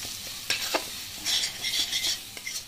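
Spice masala with ground cumin and a splash of water is stirred and fried in a pan for a Bengali shol fish curry. Close, brisk stirring strokes and soft sizzling come in short bursts, with no talking.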